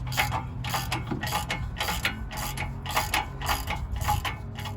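A ratchet wrench loosens the nut on a lower control arm bolt of a 2007–2012 Nissan Altima, making close, loud rhythmic bursts of ratcheting clicks, about two strokes per second, with no talk.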